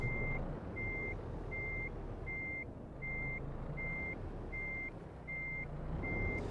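Reversing alarm of a heavy truck in Euro Truck Simulator 2, a steady run of nine evenly spaced electronic beeps over a constant low engine rumble while a trailer is backed up.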